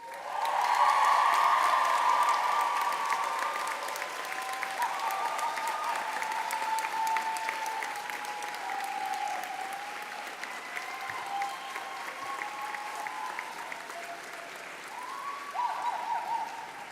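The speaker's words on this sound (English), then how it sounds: "with the loudest cheer of the day, can I ask you to show your gratitude to your family and your friends?" A graduation ceremony audience bursts into loud, sustained applause and cheering that swells at the start and stays strong, filling the hall with dense clapping and a few shrill whoops throughout.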